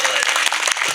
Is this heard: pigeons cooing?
no